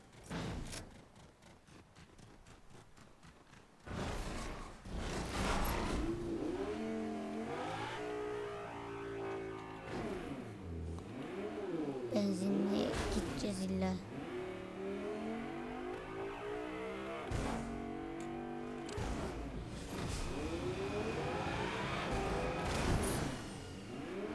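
A car engine in the Fortnite video game revs and drones while driving, pitch rising and falling repeatedly through a sustained loud whine after a brief quiet start.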